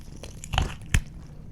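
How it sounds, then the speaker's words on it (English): Two sharp, close crunches from biting into a pickle sandwich, the second slightly louder, each followed by faint crackling of the crisp bread and filling. "It's a loud one. It's a big crunch."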